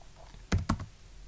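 A few quick keystrokes on a computer keyboard while a Linux terminal command is entered, close and crisp, with two clear clicks followed by a lighter tap.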